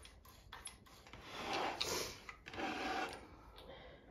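An Ideal Automatic sewing machine runs after cleaning and oiling, with a soft mechanical whir and light ticking that swells and fades in a couple of short bursts at close range, without speech.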